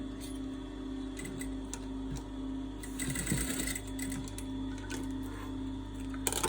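Sewing machine running steadily as fabric pieces for a lion's head are tacked together, a close rapid mechanical stitching whir with a brief louder burst midway and small clicks.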